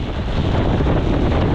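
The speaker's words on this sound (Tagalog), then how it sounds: "bumuhos ng malakas na ulan. At sa lubong ang hangin." Steady roaring wind buffets the microphone while riding home through heavy rain into a strong headwind, a dense continuous rush with no gaps or talk.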